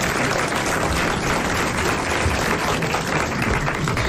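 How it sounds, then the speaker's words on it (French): A studio audience at a 1980s French comedy panel show claps steadily and fairly loudly, a dense, even wash of applause without talk. "Monsieur Castelli, que je vous demande d'applaudir."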